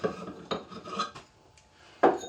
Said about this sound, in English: All these hole saws have to come out because the back is open. Just gonna stack them up here.